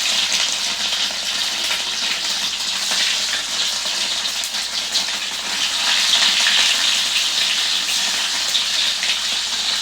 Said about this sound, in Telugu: ఇవి వేయించుకోవాలి మంచిగా నూనెలా